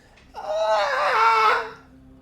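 A faint scream sound effect during a fantasy tabletop roleplaying session: one drawn-out, wavering cry that swells and fades over about a second and a half, alone against a quiet background.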